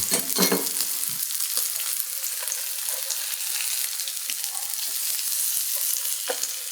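Sesame-crusted tuna sears in a hot pan, giving off a loud, steady hiss and crackle close to the mic, with a few soft pops and scrapes and no talking.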